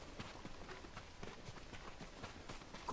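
Horses galloping in the video game Ghost of Tsushima, a quick faint drumming of hooves with a rapid, continuous rhythm and some soft background ambience.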